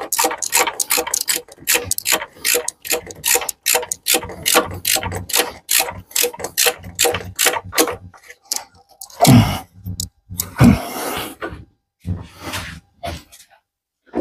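A ratchet tightens the timing chain tensioner on a 1.6 THP engine during a timing chain replacement, giving long runs of rapid, close, loud clicking strokes followed by a few louder knocks near the end.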